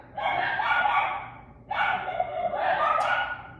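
Two long, drawn-out dog barks or howls, close and loud, one after another with a short pause between them; no talking.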